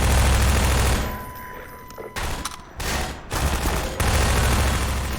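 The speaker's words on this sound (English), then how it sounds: "A game where you could actually shoot through grates" Half-Life 2 gunfire, dense bursts of loud, close shots with brief gaps between volleys, filling the clip without talk.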